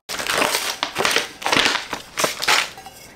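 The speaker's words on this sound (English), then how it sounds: "We are about to unwrap these." Sublimation-printed 40oz and 20oz tumblers being unwrapped: bursts of crinkling, tearing wrap material in four or five rough surges, close and fairly loud, with no talk.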